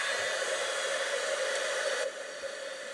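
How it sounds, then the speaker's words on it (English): A heat gun for heat embossing blows a steady, close, loud rush of hot air with a whirring hiss, dropping slightly in level partway through and continuing without talk. "I haven't used my heat gun for a bit, so it might take a few seconds to warm up and start melting everything."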